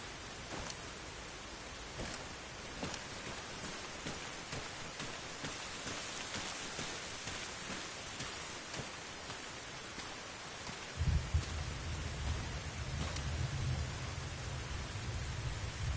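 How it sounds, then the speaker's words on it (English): Steady rain falls in the video game Arma Reforger, a continuous soft hiss with scattered drops, joined by a low rumble in the latter part. "Good to get out of the rain."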